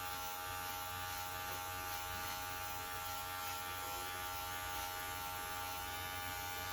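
Electric hair clipper buzzing steadily and close throughout while cutting a young woman's hair, a continuous loud motor drone with no pauses.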